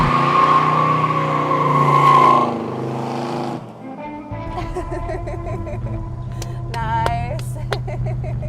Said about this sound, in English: somebody was doing burnouts outside your house